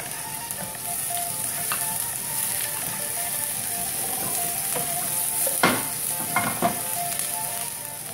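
Garlic sizzles steadily in a hot pan while a utensil stirs and scrapes against the metal, with a few sharper clinks near the end; quiet, close, with no talking.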